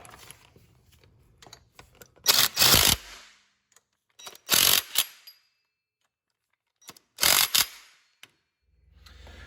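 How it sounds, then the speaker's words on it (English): A ratchet with a 13mm socket tightens a bolt during an underdrive pulley kit install, heard as three short, loud bursts of rapid clicking separated by quiet pauses. "then we're going to tighten it down with a 13mm socket"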